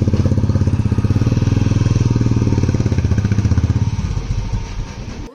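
A motorcycle engine idles loud and close at a bike parking area in Lamahatta near Darjeeling, a steady throbbing that runs unbroken for about four seconds before easing off and fading.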